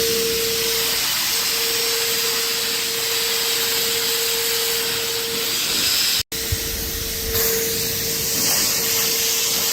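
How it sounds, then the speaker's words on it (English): A shop vacuum roars steadily close by, sucking debris from cracks in a garage floor, a constant hissing suction with a high whine, briefly cutting out for a moment before resuming. "vacuum out all the cracks with the shop vac"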